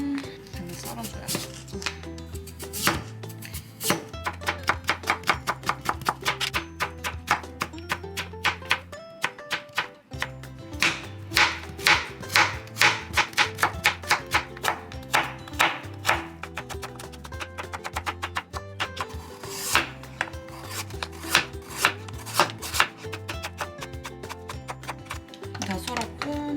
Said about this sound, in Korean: 일단 무랑 당근 썰어줘요.